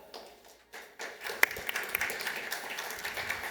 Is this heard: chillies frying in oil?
no